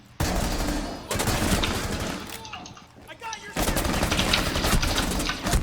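Automatic gunfire in Rainbow Six Siege rattles in loud, dense bursts. A short pause breaks the firing before another sustained burst, with a voice briefly under the shots.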